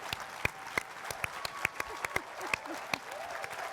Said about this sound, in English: we should give them a round of applause for being here.